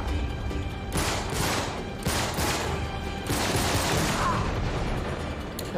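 Grenade launcher fire in the video game Uncharted 3: Drake's Deception, several sharp booming blasts in quick succession over a steady rumble of game noise, fairly loud.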